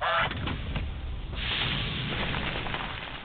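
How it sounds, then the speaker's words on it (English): Geese honk continuously in a dense, loud racket of overlapping calls that fills the whole stretch with no pause. "It's a goose!"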